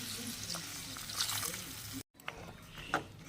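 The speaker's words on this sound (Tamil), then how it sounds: "இப்போ இது கூடவே மட்டன் வேகிறதுக்கு தேவையான அளவு தண்ணி ஆட் பண்ணிக்கலாம்" Mutton masala frying in a pan as water is poured in for a mutton gravy, giving a steady close sizzle with brief stirring and liquid splashes, a short gap of silence midway.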